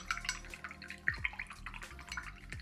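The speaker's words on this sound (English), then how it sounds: "I'm going to start out with a little ASMR water action" Gentle water drips and small trickling splashes, close and quiet, falling irregularly against a faint background of music.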